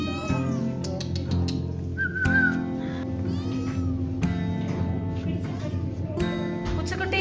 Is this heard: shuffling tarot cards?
no